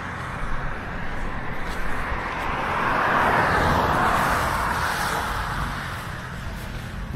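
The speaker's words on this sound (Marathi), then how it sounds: "गाड्या येत आहेत." Vehicles rush past on a highway near Pangari, a steady broad roar of traffic swelling as a close vehicle passes mid-way, then easing back to a continuous wash of road noise.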